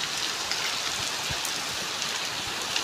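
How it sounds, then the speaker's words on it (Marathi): Steady rain falling in a village during a flood, a dense, even hiss of drops hitting surfaces close by with no talking. "हे बघा अजून पण पाऊस पडतो आहे."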